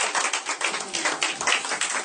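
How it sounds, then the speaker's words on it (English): A church congregation clapping their hands during a Sunday thanksgiving service: dense, continuous applause-like clapping from many people at once, loud and unbroken throughout. "Please clap"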